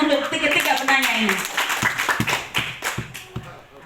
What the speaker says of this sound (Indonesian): kita tepuk tangan untuk ketiga penanya ini